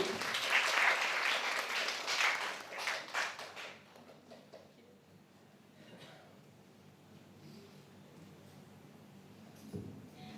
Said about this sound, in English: Please give applause to Miss Ivy.